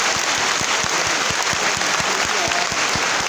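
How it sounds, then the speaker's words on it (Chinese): Steady, enthusiastic applause from a crowd at a Yiguandao thirtieth-anniversary thanksgiving assembly in Taichung fills the whole stretch, dense and continuous without pause. "我们是不是给自己一个热烈的掌声？"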